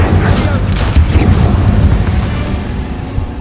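An Incendio fire spell blast in Hogwarts Legacy, dense roaring whoosh and low rumbling bursts sustained throughout at steady loudness, with a brief whistling tone partway through.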